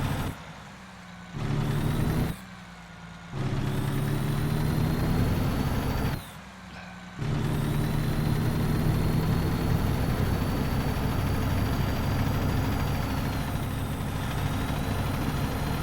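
A heavy truck engine idles and runs steadily in American Truck Simulator, a loud continuous drone that cuts out briefly several times before returning and holding for the rest of the clip, with no talk over it.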